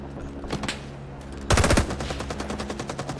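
Gunfire in the World War II shooter game Rising Storm: a few single shots at first, then a loud, rapid machine-gun burst, with further automatic fire trailing off at a distance.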